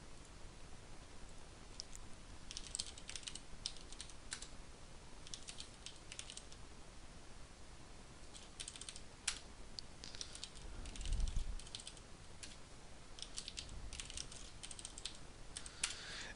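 Someone types on a computer keyboard in steady bursts of clicks separated by short pauses, moderately close and fairly quiet, with no talk.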